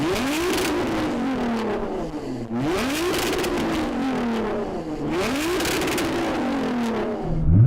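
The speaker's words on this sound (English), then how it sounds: "So I'm going to rev up this tuned GTR." A tuned 1000hp Nissan GT-R engine revs hard three times in a row, each rise climbing to a loud high-pitched scream and then dropping back, close and with no talk over it.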